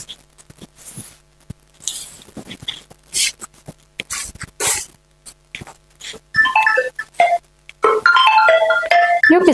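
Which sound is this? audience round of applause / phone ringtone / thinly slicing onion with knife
phone ringtone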